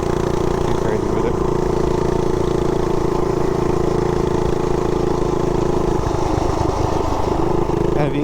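A Harley-Davidson Softail motorcycle pulls away with a loud, throaty engine drone that holds steady, then roughens as it accelerates near the end.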